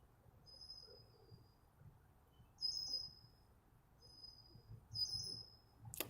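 Faint, high bird chirps come in short repeated bursts from somewhere in the background, over a quiet low ambient hum.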